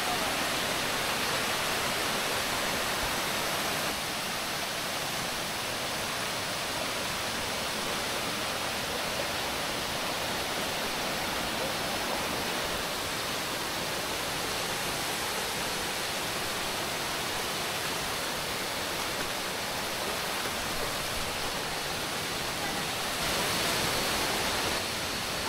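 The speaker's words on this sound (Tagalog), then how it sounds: "Bali itong third layer ng waterfall." Bantakay Falls near Mt Pinagbanderahan in Atimonan, a dense, constant roar of falling water filling the whole clip at steady loudness with no talk.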